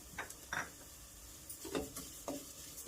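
Sesame seeds frying in a pan over low flame, with faint sizzle under a few soft scraping stirs of a spoon, quiet and close.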